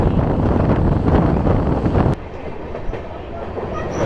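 A train runs on rails toward the Nasipur rail bridge, its loud rolling rumble and clickety-clack carried on wind noise, then dropping abruptly to a quieter, thinner rattle partway through.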